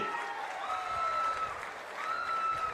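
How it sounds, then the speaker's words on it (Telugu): A crowd at a public political event claps steadily and enthusiastically throughout, with a faint tone ringing underneath. "గట్టిగా చప్పట్లు కొట్టి అభినందించండి."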